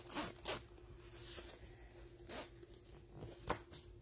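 A zipper on a handmade Boon wallet rasps in a few short, quick pulls spread across a quiet stretch, close and soft with light handling noise between strokes.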